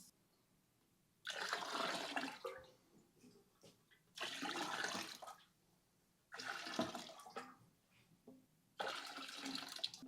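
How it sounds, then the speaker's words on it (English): Water mixed with rum-making dunder is poured from one bucket into another in four separate gushing, splashing bursts, with quiet pauses between them and no talking. "get some water in here and dump the remainder between these 2 buckets"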